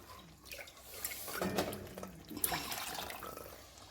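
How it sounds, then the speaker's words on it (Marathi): Water splashes and gurgles as it is poured into a metal pot, with soft clinks, fairly quiet and close. "मी पाणी टाकून घेते"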